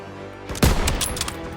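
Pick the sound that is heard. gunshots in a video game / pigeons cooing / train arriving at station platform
gunshots in a video game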